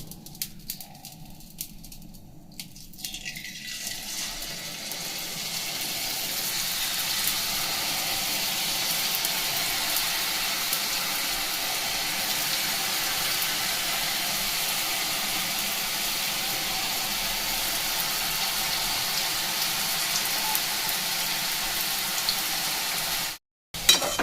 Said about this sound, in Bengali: এবার তেলের মধ্যে আমি এটা এইভাবে ছাড়তে থাকবো।